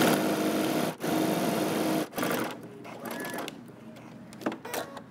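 A sewing machine stitches a 5/8-inch seam down a Simplicity 8615 jumpsuit, running in a fast steady whir that cuts out briefly twice, then continues more quietly with short bursts and pauses.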